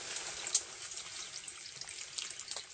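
Clear water trickles and flows through a cave passage, a faint, steady splashing patter with small drips standing out now and then, with no voices.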